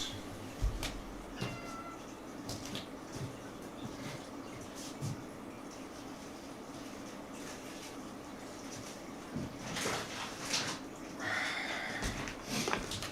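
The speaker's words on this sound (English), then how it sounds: "Has to be the other cat now." Indoor cat meowing to demand food, a few scattered meows over steady room noise with soft rustling, fairly close, no talk.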